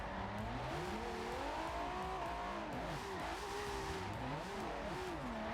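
A Nissan S15 and a Nissan GT-R R35 drift together at the Nürburgring, with loud engines rising and falling through overlapping revs and constant tire squeal, continuous and close with no talking.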